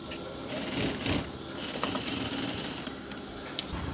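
A sewing machine stitches a kurta placket in a quick mechanical rattle. It runs close and fairly soft, in short stop-start bursts with brief pauses.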